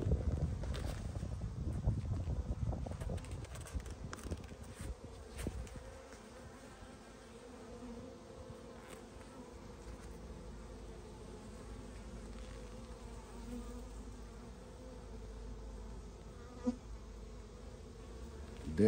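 A swarm of honeybees hums steadily around a church tree, a dense continuous buzz that is loudest in the first few seconds and then settles into a fainter, even drone, with a few passing bees and light handling noise.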